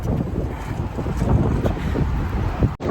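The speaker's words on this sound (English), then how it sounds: "The wind! The wind!" Strong wind roars steadily against the microphone during an outdoor run, a dense, continuous rumbling buffet with a brief dropout near the end.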